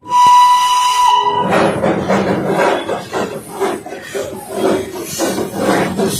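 A train at Ghum railway station in Darjeeling, the highest station in West Bengal, opens with a loud, steady whistle blast, then gives way to a dense rumble and clatter of the train and station bustle, with faint voices mixed in.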